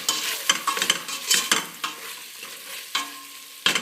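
A spoon stirring a lamb and runner bean stew seasoned with paprika in a pot, irregular scraping and knocking strokes over a soft simmering sizzle, close and fairly loud.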